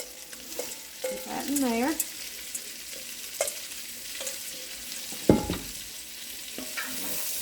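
Chopped green and yellow onions frying with tasso sizzle softly in a pan while a spoon stirs and scrapes, with brief speech over the cooking.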